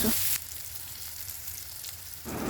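Pieces of pressure-cooker-boiled pork, cut medium size, fry in a pan with a steady, even sizzle that runs close and continuous throughout, with no voices over it.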